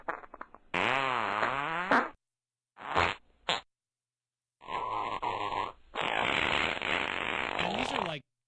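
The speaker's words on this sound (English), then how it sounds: "these are some like low quality fart sounds" Several low-quality synthetic fart sound effects, each a buzzy, wobbling burst lasting one to two seconds, separated by short silences and two quick blurts, loud and close with no talking.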